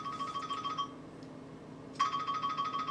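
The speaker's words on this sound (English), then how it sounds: "Got to turn off my cell phone." A cell phone rings with a repeating electronic tone in two bursts separated by a short pause, moderately loud indoors, with no talk.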